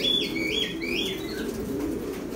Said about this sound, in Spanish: Tenemos todo tipo de razas de paloma aquí.